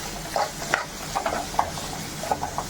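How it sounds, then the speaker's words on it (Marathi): Spoon stirring spices, salt and chili powder into a cowpea pod curry in a pan, a series of short scraping strokes over a faint sizzle, close and moderately loud with no talking. "गरम मसाला चवीनुसार मीठ काळ तिखट मिक्स करून घ्यायचं"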